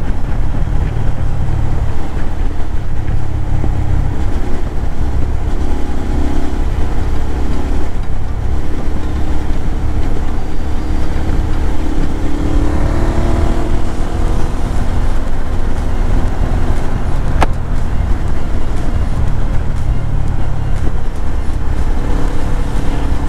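Steady, loud engine drone of a Suzuki V-Strom 650 adventure motorcycle cruising along the Great Ocean Road in Victoria, with constant wind rush and a low rumble that holds throughout, no talk.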